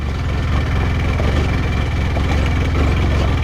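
A motorcycle engine strains up a steep off-road hill in Dhading, its loud, steady low throb pulsing evenly throughout, with no talk over it.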